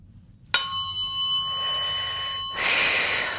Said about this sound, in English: the fork is ringing pretty strong right here